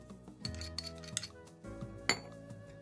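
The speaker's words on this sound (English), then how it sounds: "First, I mixed all the dry ingredients." A spoon clinks and scrapes lightly against a bowl while flour, pecan pieces, baking soda, salt and sugar are stirred together for banana bread. The taps are faint and irregular, with quiet pauses between them.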